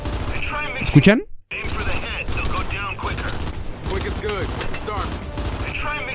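Rapid gunfire in the Gears 5 arcade multiplayer mode, with hit-marker ticks on impact and dense bursts running almost throughout, briefly cut by a gap, while someone talks over the game.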